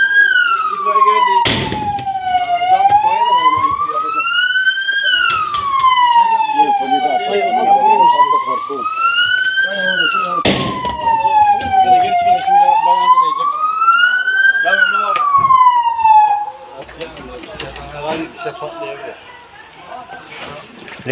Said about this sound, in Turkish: İtfaiye geldi.